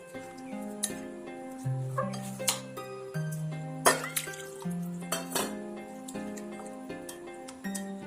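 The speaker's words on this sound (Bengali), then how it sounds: "এবার এই সুজিটিকে আমি 1 কাপ দুধ দিয়ে খুব ভালোভাবে একটু একটু করে মিশিয়ে নেব" Semolina and a cup of milk are stirred together in a bowl, with soft scraping and light clinks of a spoon against the dish, close and gentle over quiet background music.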